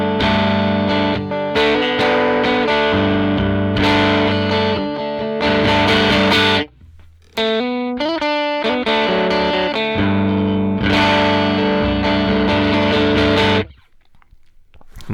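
Electric guitar through a dirty amp capture on a Neural DSP Quad Cortex, stacked in front of a clean sound: loud, distorted chord strums and riffs with a short pause, then more heavy chords that cut off near the end.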